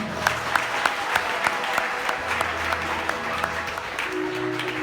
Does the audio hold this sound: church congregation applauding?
yes